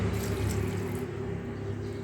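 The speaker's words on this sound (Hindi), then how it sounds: "तब पौधा मन में पानी डाले बर आया हूँ" Water poured onto garden plants, a steady continuous splashing and trickling stream, close and fairly loud throughout, with no talking.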